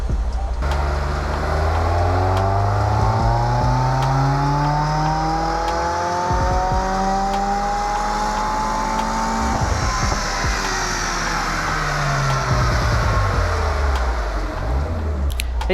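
A car fitted with a Protune-tuned exhaust revs and drives, its engine note rising and falling through repeated sweeps with sharp throttle blips midway, loud and continuous throughout.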